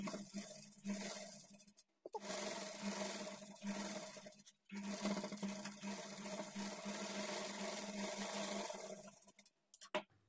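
Bursts of a sewing machine stitching the edge of a blouse waistband, a steady whirring hum that runs for a few seconds, stops abruptly, then restarts, close and fairly quiet.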